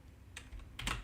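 A single computer keyboard keystroke pressed to run a workflow, followed by a couple of soft key clacks, close and quiet with no talk.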